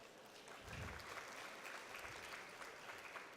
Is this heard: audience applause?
yes